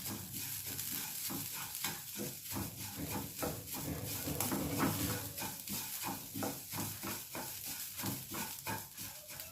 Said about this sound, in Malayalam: നാളികേരോടെ ആഡ് ചെയ്തിട്ട് വറക്കാം